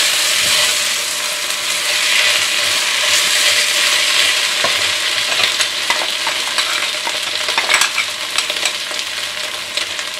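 Flour stirred into onions frying in a pot for onion soup, with a steady loud sizzle and scraping spoon strokes running continuously throughout, no voices.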